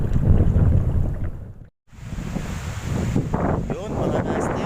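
Strong wind buffets the microphone at sea aboard a fishing boat, a loud rough rush that drops out briefly and then returns, with a voice talking over it.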